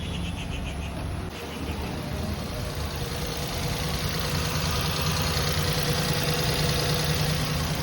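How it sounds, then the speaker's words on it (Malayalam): A car engine idles steadily just after a jump start from a flat battery, a continuous low rumble with a faint knocking tick, close and loud throughout with no talk. "അപ്പോൾ ഈ വണ്ടി ഇപ്പോൾ സ്റ്റാർട്ടായിട്ടുണ്ട് കേട്ടോ."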